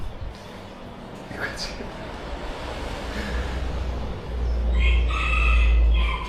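A rooster crows close by in Dili, Timor-Leste, heard from inside a room. Two drawn-out calls rise above a rough background rumble, the second one louder and nearer.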